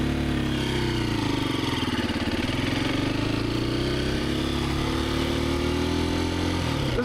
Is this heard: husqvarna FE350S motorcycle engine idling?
yes